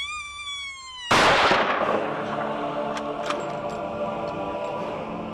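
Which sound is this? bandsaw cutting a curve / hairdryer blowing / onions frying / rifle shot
rifle shot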